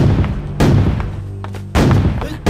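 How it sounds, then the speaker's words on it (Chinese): Ships' cannons fire a welcoming salute as warships of a Far East fleet enter a harbor: two heavy, booming blasts about a second apart, each followed by a rolling rumble that fills the space between them. "刚才的炮声是向他们致意，表示欢迎"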